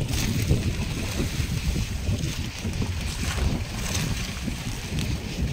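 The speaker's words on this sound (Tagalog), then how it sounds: "Mahangin pa rin ang habagat." Strong, steady southwest monsoon wind roars across open water off the Philippines, with a continuous rush and low rumbling gusts, like wind battering a fishing boat at sea.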